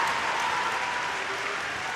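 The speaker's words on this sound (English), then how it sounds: "Arsenal singing, cheering their team on, wanting them to get something from this game." Travelling Arsenal away supporters at a Women's Super League football match against Manchester City, a dense, continuous roar of crowd cheering and clapping heard at a distance, steady and broad without individual voices standing out.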